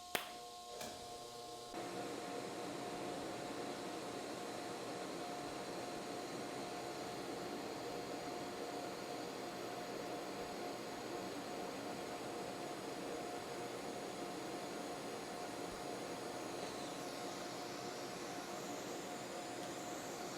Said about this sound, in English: We keep welding here.